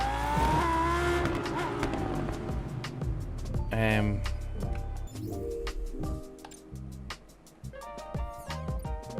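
Game car drifting at full throttle with a hard left turn in Test Drive Unlimited: Solar Crown, the engine revving high while tires squeal and the traction control cuts in, loud and continuous under a voice talking over it.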